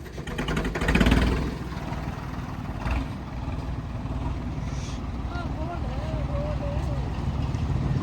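A tractor engine runs steadily near idle, a continuous close, low rumble with a brief louder surge early on and faint voices in the background.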